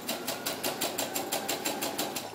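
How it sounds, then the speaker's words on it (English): A sewing machine stitches along the edge of slip fabric for a doll slip, its needle chattering in a steady rapid rhythm of about four to five beats per second, close and moderately loud with no talking. "and then we'll go ahead and sew it"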